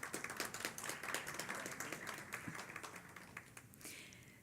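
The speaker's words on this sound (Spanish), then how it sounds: "Un aplauso, por favor." Audience applause at an electoral justice conference, quiet and somewhat distant, with the individual claps easy to pick out as they patter along unevenly.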